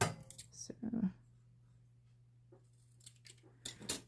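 Scissors trim card for a handmade masculine greeting card, a few short crisp snips close by and then again after a pause, with a low steady hum behind.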